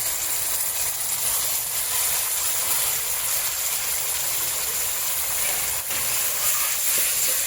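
Spice paste sizzles in a hot pan while pabda fish is cooked, a loud, continuous, close frying hiss that stays even throughout with no voices.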